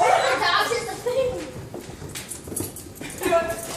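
A puppy plays with other dogs, giving soft whimpers and yips amid scuffling, with people talking over it throughout.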